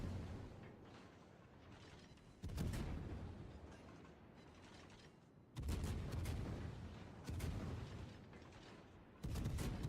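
Warship main guns fire in World of Warships in four loud, booming salvos, each followed by a rumbling decay, with quieter mechanical background between them.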